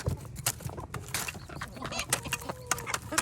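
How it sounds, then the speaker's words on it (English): Backyard chickens cluck and scratch around a flock block gingerbread house, with scattered close clucks and rustling over a busy, uneven background. "let's go serve it to the chickens and see what they think"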